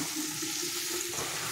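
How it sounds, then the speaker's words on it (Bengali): Spice paste of ginger, coriander, cumin, chili and turmeric frying in hot oil, a steady close sizzle and hiss with no break and nobody talking. "মশলা কষা হয়ে গেছে, তেল ছেড়ে গেছে"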